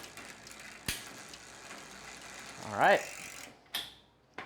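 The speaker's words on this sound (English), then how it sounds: "So let's pedal it, shift it down, down." A bicycle derailleur shifts gears while the pedals turn. A sharp click is followed by a quick ratcheting chatter of the chain moving across the sprockets, then another click, all fairly close. Someone briefly says a few words.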